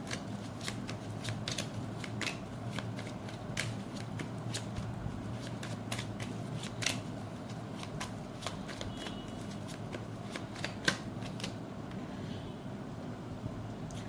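Tarot cards are shuffled continuously, a soft steady riffling rasp with occasional sharper snaps, close and fairly quiet, with no speech over it.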